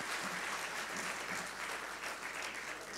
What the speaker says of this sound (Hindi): ताली बजाना है तो ठीक से बजाइए